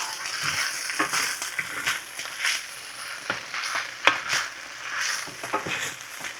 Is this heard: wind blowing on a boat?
no